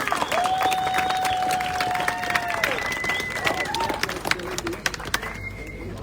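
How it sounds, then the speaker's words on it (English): An outdoor crowd at the Fur Rondy 2022 sled dog race awards claps for the race sponsors, the applause steady and mixed with whistles and scattered cheers. "So round of applause for our sponsors."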